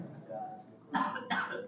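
A lecturer coughs twice in quick succession, two short harsh bursts close to the microphone after a stretch of quiet room tone.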